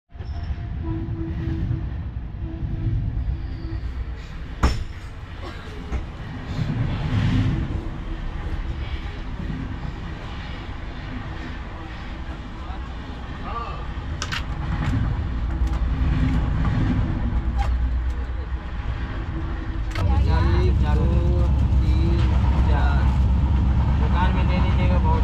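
Steady rumble of a moving passenger train heard from the open door of a coach on a Kolkata to Ayodhya run, with continuous low-frequency wheel and track noise that swells louder near the end, under scattered talk.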